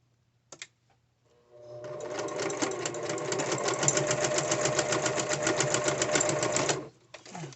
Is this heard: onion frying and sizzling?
no